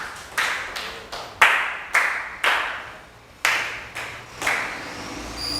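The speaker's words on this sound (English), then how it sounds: "Clap your hand for him." Students in an electronics workshop clap hands in scattered, separate bursts, roughly ten distinct sharp claps spread over several seconds, close and fairly loud with quiet gaps between them.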